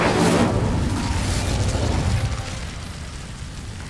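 A burst of fire erupts from an Incendio spell in Hogwarts Legacy, a sharp whooshing blast that fades into a low crackling rumble over a few seconds.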